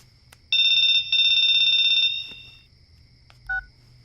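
A telephone ringing in two long bright trilling bursts, close and loud, followed by a short electronic beep after a pause.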